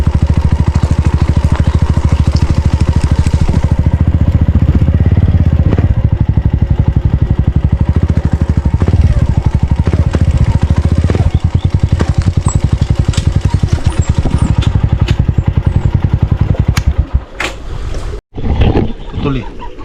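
An old small grass cutter engine runs loudly up close on a farm, a steady rough buzzing drone that sputters and cuts out near the end.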